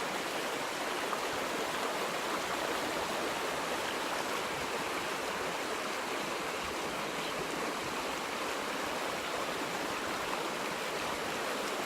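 Running stream water and a small waterfall on a wooded Ozark hiking trail, a steady broad rushing wash that stays even and fairly close for the whole stretch, with no voices.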